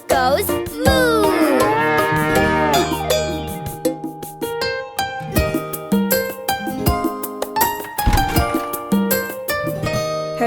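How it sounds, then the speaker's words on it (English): A cartoon cow moos in a children's farm nursery song, the lowing sung over bouncy music with melodic backing throughout rather than standing alone. "And she goes Moo."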